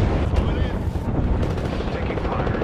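Dense, continuous video game gunfire and explosive blasts fill the scene at close range, loud and chaotic throughout, with a voice faintly mixed in.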